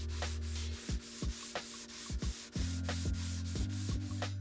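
Steady rhythmic sanding on wood, close up, with regular back-and-forth strokes scraping at an even pace under a constant motor hum.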